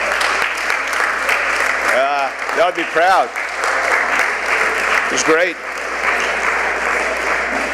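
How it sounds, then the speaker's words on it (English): Applause from an audience at a graduation breakfast honoring seniors after a basketball game, dense sustained clapping throughout, with a person talking over it partway through. "Let's give them a round of applause."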